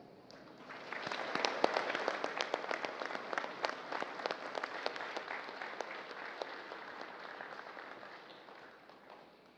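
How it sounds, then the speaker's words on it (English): A crowd at an Armed Forces of the Philippines change of command ceremony breaks into warm applause for the President that swells, holds steady for several seconds, and gradually fades, heard from some distance. "please welcome with a warm round of applause"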